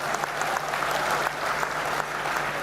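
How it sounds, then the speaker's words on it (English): Convocation audience applauding steadily throughout, a dense wash of clapping hands in a large hall with no break. "A big applaud for ICFAI"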